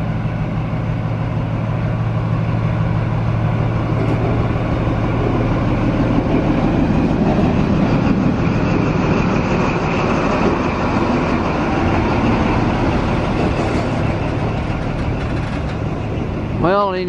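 An XPT passenger train departs Brisbane station in the early morning, a steady, loud rumble of diesel engine and rolling wheels with a constant low hum throughout and a brief rising whine near the end.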